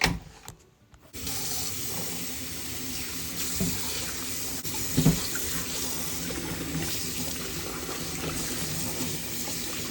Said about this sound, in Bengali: একটু গরম জল দিয়ে দিলাম তাহলে প্যাকেটটা তাড়াতাড়ি খোলা যায়